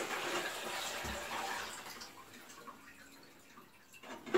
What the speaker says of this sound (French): Et je vais verser tout ça dans un seau.